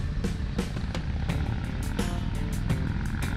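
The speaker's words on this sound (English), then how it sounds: "Wow, there's a lot of bikes in this group." A group of motorcycles riding together, heard from a 2021 Indian Roadmaster Elite, a steady engine and road drone carrying through with repeated sharp pulses and no talking.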